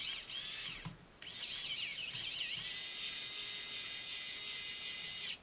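A Xiaomi Wowstick 1P+ electric screwdriver whines steadily as it drives a screw, with a brief pause near the start and then a continuous high motor buzz until it stops; no talking.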